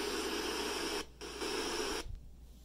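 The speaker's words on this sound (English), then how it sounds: "So you hear nothing but static." Hiss of a portable FM radio tuned between stations, a steady broadband static that cuts out briefly twice and drops away near the end.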